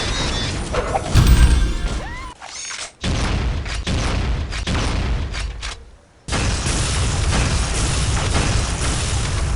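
Loud Unreal Tournament flak cannon blasts boom in bursts, with metallic mechanical clanks between shots and a short pause before a sustained roar of firing.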